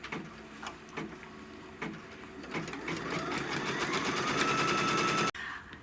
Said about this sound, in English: Lay the background fabric down, make sure you're covering it all up, and then it's gonna stitch the tack down.